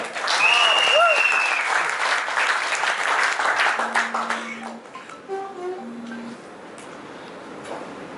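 Applause from a group of trainees at a residential training session, loud at first with a brief voice over it, then thinning out as scattered talking takes over.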